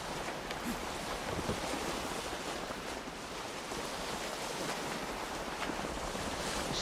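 Churning water swirls around a ship at sea in the video game Atlas as a steady, dense wash of surf and wind noise at moderate level, continuous throughout with no voices.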